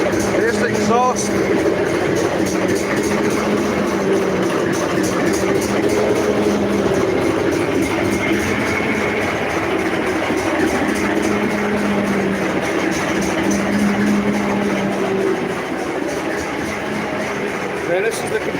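A diesel locomotive engine idles at a diesel gala with a steady, loud low throb and rumble that continues throughout, while a person talks over it.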